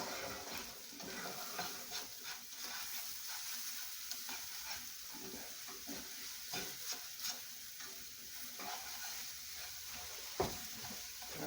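Scrambled eggs sizzle steadily in a hot pan while a utensil stirs and scrapes through them in irregular strokes, with an occasional sharper knock against the pan.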